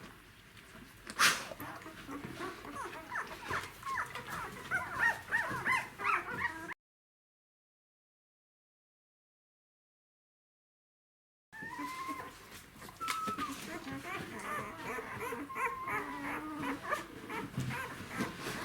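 Seven-day-old puppies of Pepper Pink and Rahan whimper and squeak faintly, thin high cries scattered over a quiet room, with a sharp yip early on and a stretch of dead silence in the middle.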